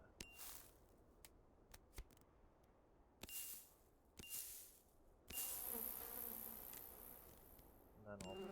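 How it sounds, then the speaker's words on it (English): Bees being placed in a video game give off short insect buzzes, several faint separate bursts followed by a steadier, louder swarm-like drone toward the end, with no talk. "And then I'll place some bees here."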